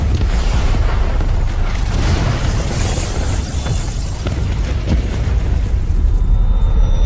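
A loud, dense explosion from an action film scene, a sustained roaring blast with crackling debris and deep rumble filling the whole stretch without a break.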